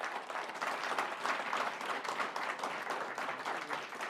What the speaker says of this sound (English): Let's give a little round of applause here for a great talk.